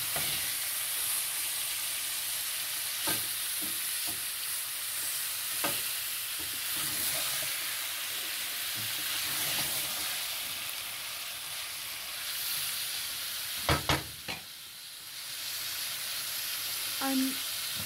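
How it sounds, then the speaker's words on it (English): A pan of fish curry is stirred gently, a steady low sizzle and simmering hiss with faint scraping and a couple of brief knocks against the pan; no speech. "So we mix very gently to the color."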